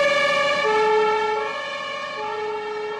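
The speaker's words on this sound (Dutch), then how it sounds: "De brandweer en de politie snellen met sirenes naar de plek des onheils." Emergency sirens of fire brigade and police vehicles rushing to a hydrochloric acid leak, a loud, steady wailing tone with strong harmonics holding throughout and easing slightly near the end, with no talk.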